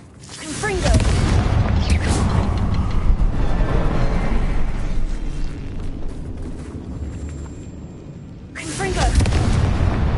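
A Confringo fire spell exploding in the video game Hogwarts Legacy, heavy booming blasts with a deep rumble, loud and close, with a second sharp burst near the end.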